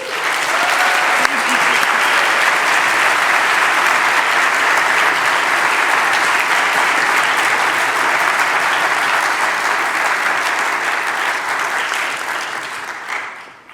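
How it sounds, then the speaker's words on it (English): Loud, sustained audience applause for two Champions of Character winners at an alumni award convocation, a dense wash of clapping that holds steady and then fades slightly at the end. "let's give them both a round of applause"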